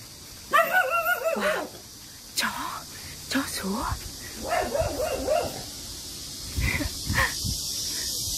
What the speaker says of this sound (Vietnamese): Những chú chó chào đón chúng ta.